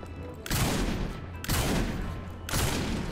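Shotgun blasts in the video game Saints Row IV, three loud booming shots spaced about a second apart, each with a long noisy tail, close and dominant with no talk over them.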